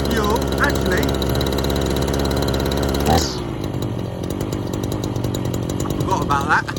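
A small engine runs at a fast, loud, buzzing idle and then drops to a slower, rougher idle partway through, with the sound staying near and continuous.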